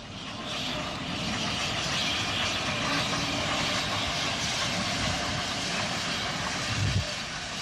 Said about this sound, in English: This is number 58 again, approaching Finaghy on a freight on July the 27th, 1964.